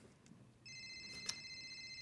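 A phone rings in a TV drama scene, a steady electronic ringtone starting partway in and continuing at moderate level over a quiet room background.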